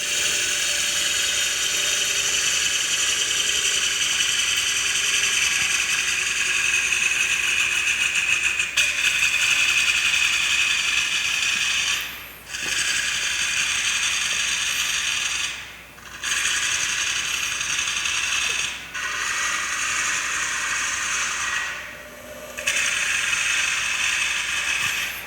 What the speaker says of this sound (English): Now I'm going to cut into the interior here. Back with my 5/8 inch bowl gouge.